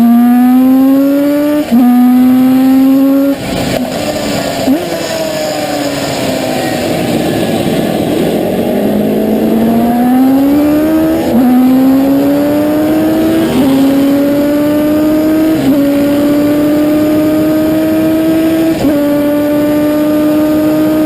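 Koenig 500 racing motorcycle engine at full song while riding, a loud continuous high-pitched wail rising through the revs, with brief dips at gear changes before climbing again.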